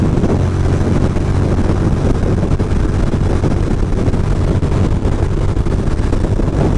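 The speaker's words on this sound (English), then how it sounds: "The wind is brutal. It's really, really windy." Strong wind roars and buffets the microphone in a steady, loud, unbroken rush with no voices, while riding a Ducati motorcycle in New Jersey.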